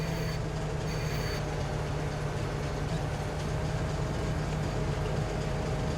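A freight train in Farming Simulator 22 rolls along with a steady, droning rumble and a low mechanical hum. The sound stays constant and even throughout, with no voices.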